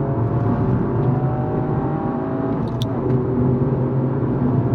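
A 2022 Toyota GR Yaris on a circuit brakes hard and shifts into third gear, its engine droning steadily from inside the cabin with a brief sharp click midway.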